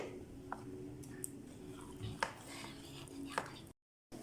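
Pancake batter is whisked in a bowl until smooth, giving soft irregular clinks and scrapes of utensil against bowl at close range, faint under a quiet background, with a short dropout near the end.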